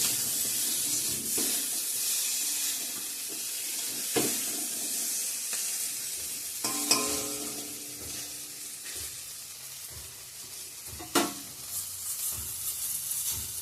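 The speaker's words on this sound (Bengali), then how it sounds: "আর ভেন্ডিটা ভাজা হচ্ছে" Okra frying in a pan alongside eggplant in a home kitchen, a steady soft sizzle with occasional stirring scrapes and clinks, no talking.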